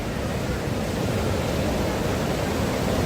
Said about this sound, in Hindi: पार्वती नदी।